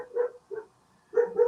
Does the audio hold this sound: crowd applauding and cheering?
no